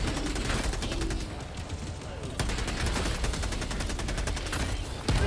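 Rapid gunfire from turrets in the video game Helldivers 2, with dense bursts and sharp shots filling the scene at steady loudness and a heavy blast near the end.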